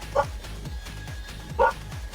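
A neighbor's dog barks twice from down the street, two short distant yaps about a second and a half apart over a steady low hum.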